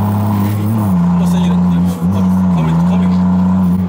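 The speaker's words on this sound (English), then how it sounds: "Yeah, this is misfire for sure." A modified car's engine drones loud and close during a street race ride-along, with a steady low tone that briefly dips and falters midway, under voices talking inside the car.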